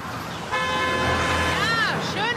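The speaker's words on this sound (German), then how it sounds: "Ja, schöne Hupe." A car horn sounds in a sustained toot after a short lead-in, then warbles and bends near the end. It is loud and close, with a voice talking underneath.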